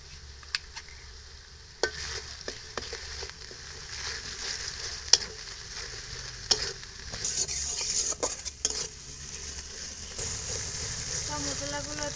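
Pastes of chili, onion and garlic fry in a pan for a duck-egg bhuna, with a steady sizzle under frequent scraping and clinking stirs of a utensil against metal.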